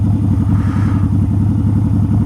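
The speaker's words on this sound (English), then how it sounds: "the bike's idling really rough" Motorcycle idling rough at a traffic light, a steady low, uneven chugging pulse close by with no talking over it.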